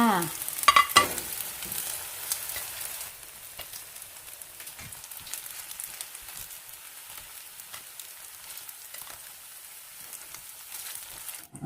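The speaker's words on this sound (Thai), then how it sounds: "ทอดต่อเลยค่ะ" Chive cakes frying in hot oil give a bright, steady sizzle that starts with a louder burst of crackling and spatter, then settles into a softer, continuous hiss.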